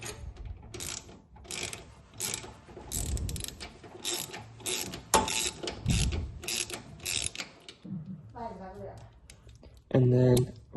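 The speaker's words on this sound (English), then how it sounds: "And then we're gonna tighten up the other one now." A socket ratchet on a 1/2 inch socket tightens brake bolts on a Craftsman, giving steady clicking pawl rattles close by and nearly continuous, with a short pause near the end.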